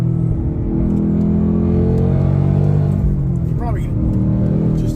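A Whipple-supercharged race truck engine pulls hard under steady acceleration, with a loud, dense low-frequency roar and a rising whine building for several seconds. Someone speaks over the engine.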